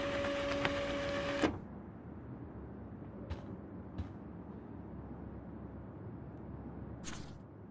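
An office printer in the game Life is Strange whirs steadily as it prints an email, then cuts off abruptly into a quiet room hum with a few faint clicks.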